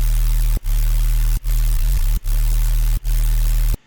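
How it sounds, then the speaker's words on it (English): Heavily saturated, low-cut white noise from a synth in a Modestep-style electronic production: loud, harsh, buzzy hiss played as four sustained blocks, each cut off by a brief silent gap. "to give it the farty white noise sound"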